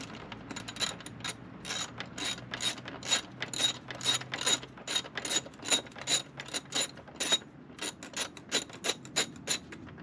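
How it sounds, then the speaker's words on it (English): A hand ratchet clicks rapidly as it backs out a 10 mm bolt on a wire harness bracket of a Jeep JL, a close, steady run of sharp metallic ticks in repeated strokes with no talk. "We're going to take off this 10 mil on this wire harness bracket."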